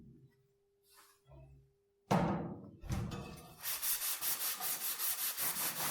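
Ceramic hob cleaner being rubbed onto rusty chrome by hand, starting with a few faint strokes, then a loud sweep and a steady run of rhythmic scrubbing strokes close up, with no talking.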